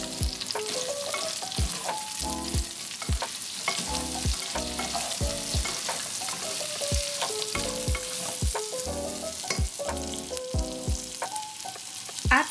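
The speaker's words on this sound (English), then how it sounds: "We are going to add the onions and lightly fry them for a few minutes." Onions frying in a pan for a pork and Chinese karela dish, a steady sizzle running throughout with repeated clinks and scrapes of stirring, all under clear tonal music, with no talking.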